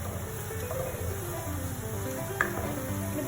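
Ginger frying in a pan for a spicy potato bhaaji, a steady soft sizzle running throughout with faint stirring and a small clink near the end.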